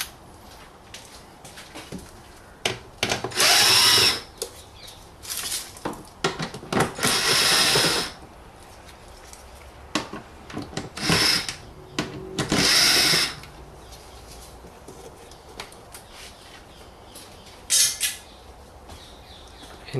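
A power tool with an 8mm socket backs out small bolts holding the pollen filter on a 2008 BMW E91, several short loud whirring bursts separated by quiet pauses and light clicks of handling.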